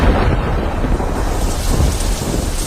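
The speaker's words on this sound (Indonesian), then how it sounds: "suara petir cukup mengagetkanku" Thunder rumbles continuously through a heavy storm, a loud low roar with rain hissing over it throughout, sudden enough to startle and knock out the house lights.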